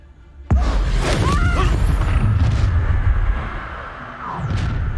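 A sudden loud blast from the Confringo fire spell in Hogwarts Legacy, followed by sustained crackling, rumbling combat noise with whooshing effects and another swell near the end.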